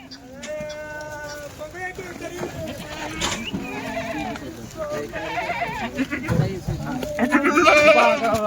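Kathiawadi goats at a livestock seller's farm bleat repeatedly, several animals calling near and loud, overlapping with people talking and general farmyard noise.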